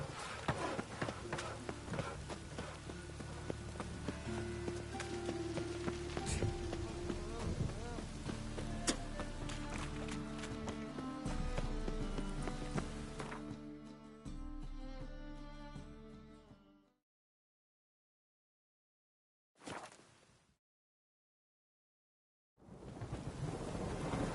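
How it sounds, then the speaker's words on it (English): Steady rain and rumbling thunder fill the scene under a layered soundscape in The Witcher 3, then cut to silence, with brief bursts returning later. "Rain again."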